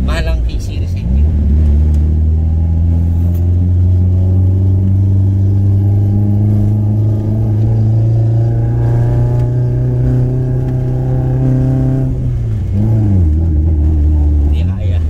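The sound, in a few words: Toyota Trueno AE86 car engine revving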